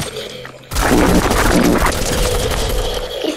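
Gunfire in the video game Fortnite bursts in suddenly after a quiet moment, then a loud, dense volley continues for a few seconds and slowly eases off.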